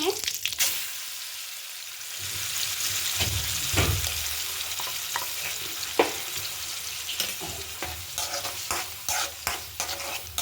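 Curry leaves and mustard seeds frying in oil in a pan for a chutney, a steady bright sizzle running throughout with occasional stirring scrapes and clinks, close and fairly loud.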